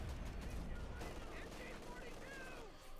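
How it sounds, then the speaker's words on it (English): Machine gun fire raking across the battlefield in Company of Heroes 2, a World War II strategy game, heard as a dense, steady rattle of shots mixed with other battle noise while a commentator talks over it. "A machine gun fire there, raking down the rifles"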